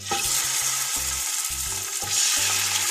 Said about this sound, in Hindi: अब हम चिकन को फ्राई कर लेंगे।